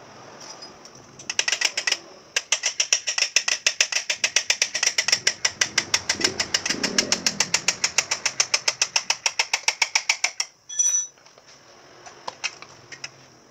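Ratchet wrench removing the rear wheel of a Yamaha Vixion motorcycle, a long run of rapid, sharp, evenly spaced clicks close to the microphone, pausing briefly near the start and ending with a few scattered clicks.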